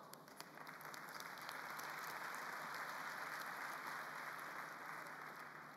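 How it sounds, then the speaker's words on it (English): Sustained applause from a summit audience fills the hall at a steady density, a dense wash of clapping that holds for several seconds without speech. "A round of applause to you as well."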